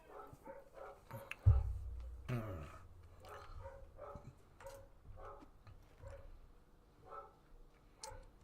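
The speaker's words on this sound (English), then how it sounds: "my dog's going mad downstairs" A dog barks repeatedly from downstairs in a house, muffled and faint, in short bursts under a few louder knocks.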